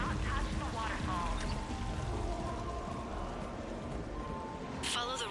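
Waterfall in the Mass Effect 3 video game, a steady rushing, pouring wash of water that runs through the whole stretch, with faint game voices talking over it.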